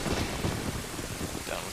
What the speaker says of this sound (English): Rain. Another sure sign that it's storming.